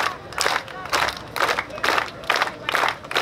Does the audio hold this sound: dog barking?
no